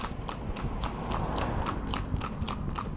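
A New Forest pony cantering in harness on a rubber bit, its hooves striking in a quick, regular clip-clop rhythm of sharp close impacts over steady background rumble, no talk.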